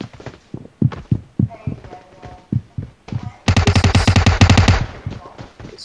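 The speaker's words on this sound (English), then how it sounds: "Who's shooting me?" Gunfire in the mobile battle-royale game PUBG Mobile: a series of separate heavy shots at a steady beat, then a dense rapid automatic burst, loud and close, with no talk.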